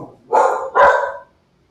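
Two loud, close barks from a dog, sharp and evenly spaced about half a second apart, then silence.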